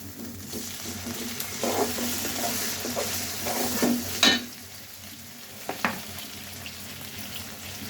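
Ground coconut paste hits hot oil for a prawn bhuna and sizzles steadily while a spoon stirs and scrapes the pan a few times, the frying hiss continuing throughout without speech.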